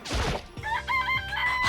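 Chickens clucking in the video game Danganronpa, a rooster-like crow and short clucks close by, coming right after a brief crashing thud, with no voices.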